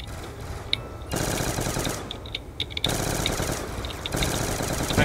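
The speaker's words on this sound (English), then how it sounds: "It's a fully automatic gun, so yes." Sustained automatic gunfire from a fully automatic weapon in Black Ops 2 Zombies, the Nuketown map, rattling in long loud bursts separated by brief pauses, with no talking.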